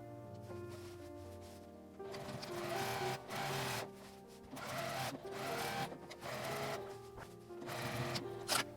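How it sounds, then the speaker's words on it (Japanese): A sewing machine stitches a seam on a shoulder drawstring bag, running in steady bursts of rapid, even mechanical chatter with short pauses between runs. "今縫ったところから3センチ下を縫います。"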